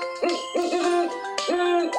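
Two owl hoots sound in close succession, each a hollow, wavering call with a slight upward bend, clear and near with no talking.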